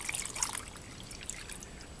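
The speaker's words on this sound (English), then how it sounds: "and we'll go ahead, fill up our cup." Water poured into a cup to mix an orange sugar-free beverage base powder from an MRE ration, a soft, steady trickle that stays faint and close throughout, with no talking.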